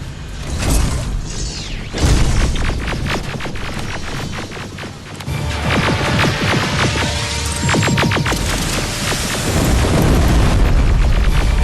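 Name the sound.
rocket explosion in Terminator: Resistance video game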